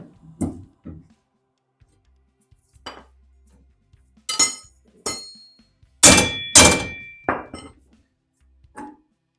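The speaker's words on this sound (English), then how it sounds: "Couple hammer whacks." Sharp metallic clanks ring out in separate bursts, several hammer blows striking the rear axle of a 1968 Volkswagen Beetle with quiet pauses between them.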